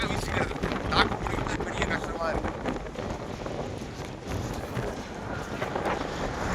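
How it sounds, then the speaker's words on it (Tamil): Strong winter wind gusts across a London street in Kensington, buffeting the microphone as a steady loud roar with broadband rumble throughout, while a voice speaks faintly beneath it. "நல்ல குளிர்காலம் லண்டனில் காற்று பயங்கரமாக"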